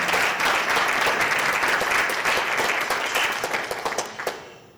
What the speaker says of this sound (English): So I just want to take another round of applause for what Carol did for the industry